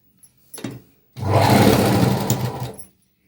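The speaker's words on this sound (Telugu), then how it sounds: "ఇలా మొత్తం లోపల వైపుకి ఫోల్డ్ చేసి స్టిచ్ చేసుకుంటున్నాను" Sewing machine stitching the folded-in cloth hem of a small petticoat, with a short start-up whirr and then a close, steady motor drone of about two seconds that stops cleanly.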